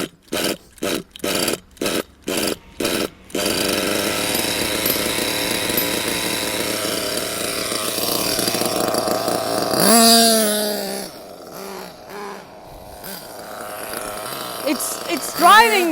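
A nitro RC car engine buzzes in sharp on-off bursts of revving, then settles into a steady high rasp that fades and picks up again after carburetor tuning, with a person talking nearby.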